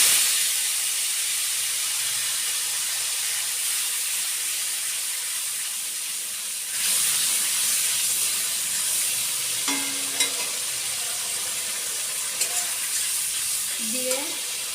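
Ginger, green chili and tomato paste hitting hot oil for a paneer dish, giving a loud, continuous close-up sizzle and hiss with occasional small clinks of a utensil.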